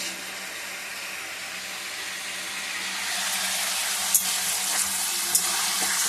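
Fish, rinsed in hot water, sizzling in a hot pan for a Bengali chicken curry meal, a steady broadband hiss that grows a little louder midway, with a couple of faint clinks near the end and no talk.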